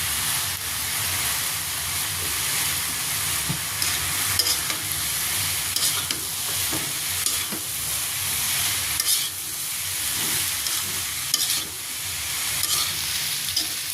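Pointed gourd (potol) slices frying with turmeric in hot oil for potol bhorta, a continuous close sizzle and hiss with frequent stirring scrapes throughout.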